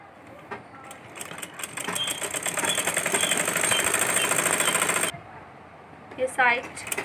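A sewing machine stitches the elastic casing of a baby frock, running in a fast steady rattle for a few seconds close up, then stopping, followed by light handling clicks.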